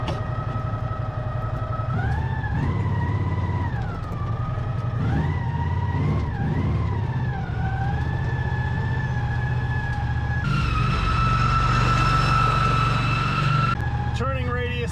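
An American Landmaster L5 UTV driving close by, its engine drone holding steady and swelling in pitch in repeated surges as it accelerates and eases off, continuous throughout.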